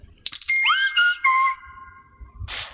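A short mobile phone notification tone rings out alone, a bright rising two-note chime followed by steady tones lasting over a second, then a brief rustle at the end.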